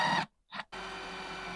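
A drill bores a small pilot hole through the sheet-metal transmission tunnel of a BMW E36 drift car, a steady motor whine running after two short bursts separated by a pause.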